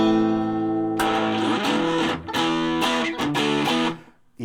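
A bass guitar through a reverb pedal: a buzzing, distorted tone drones alone, then harsh rhythmic stabs smeared with reverb, ending in a fading tail.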